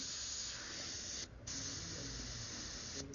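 Airbrush spraying paint, a steady close hiss that cuts out briefly twice as the trigger is released, otherwise continuous with no voices.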